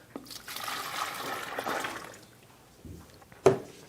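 Two quarts of water pouring into a large bucket, a steady broadband rush that swells and fades over a few seconds, close and fairly quiet, with a sharp splash or knock near the end.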